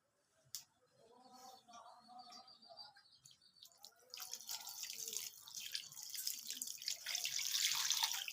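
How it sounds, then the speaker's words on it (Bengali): Water poured by hand into a pan of small sand goby (baila) fish curry, a faint splash and trickle building after a quiet start, with drips and running-water noise growing louder toward the end. "এবারে হাত দিয়ে আমি পানি দিয়ে দেবো।"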